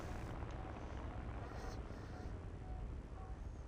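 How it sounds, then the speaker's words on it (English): A hot aircraft engine ticking over at low power in the video game War Thunder, heard as a steady, fairly quiet drone with wind-like rushing noise throughout and no clear breaks. "we're gonna pull power now, so we're just like, so the engine's just ticking over because it's very, very hot"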